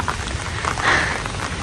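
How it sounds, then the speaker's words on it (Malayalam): Steady rain patters on a surface, a broad hiss with scattered drops heard close. "മഴ വരുന്ന നോക്ക്"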